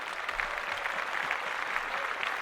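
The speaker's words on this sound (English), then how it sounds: "Clap that up." A short burst of steady, dense clapping from a small audience at a podcast recording, continuous for a couple of seconds with no voices on top.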